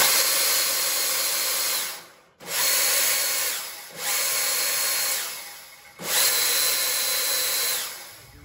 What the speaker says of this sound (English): Double Jeopardy 2021 brushless drive bench test.